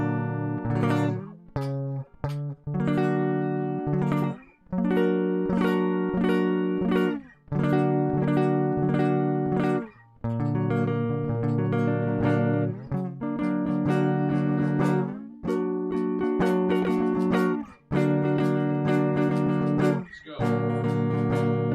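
Guitar strumming rhythm chords in repeated bursts, each chord ringing for a second or two with short gaps between, steady loud pattern throughout.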